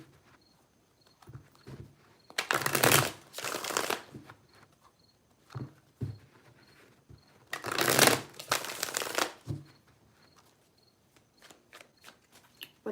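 Two bursts of rapid riffling and flapping, a deck of cards being shuffled close by, with soft taps and shuffles in between.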